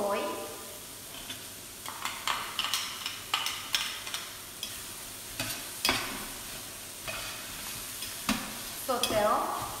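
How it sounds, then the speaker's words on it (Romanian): Onion and garlic frying in a pan, sizzling steadily while a utensil stirs and scrapes in regular knocks close by. "Așa, călim puțină ceapă, vom pune și puțin usturoi."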